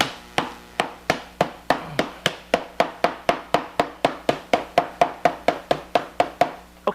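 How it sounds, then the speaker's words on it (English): A dead blow hammer strikes the lid of a 2-gallon plastic food storage bucket over and over, about twenty-five loud, sharp, close thuds in a steady rhythm, each fading quickly, with no talk. "I actually didn't forget my my trusty dead blow today. Okay, I'm going to hit."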